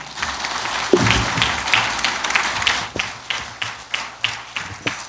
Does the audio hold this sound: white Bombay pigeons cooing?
no